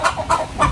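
A chicken clucks in a few quick, close bursts, loud and clear with no talking.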